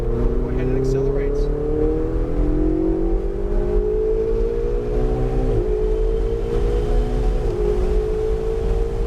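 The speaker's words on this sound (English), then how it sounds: "This is where you really get to test that acceleration. Go ahead and accelerate." A car pulls away hard down a driving-course straightaway, its engine note climbing steadily through the gears with audible shift dips, loud and close, while people talk over it.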